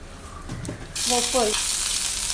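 Mustard seeds hit hot oil for soybean kurma and burst into a loud, steady sizzle with a few quick pops, close up after a short quieter lead-in.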